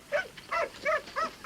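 A dog barks four times in an even, spaced rhythm, each bark clear and fairly close, with nothing else sounding between them.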